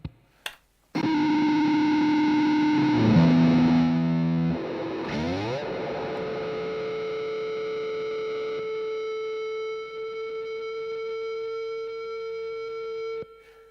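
Electric guitar played through a tape echo unit whose springs are left undamped, producing noisy, distorted tones with a warbling, sliding passage midway and long sustained notes that ring out and decay, with no talking.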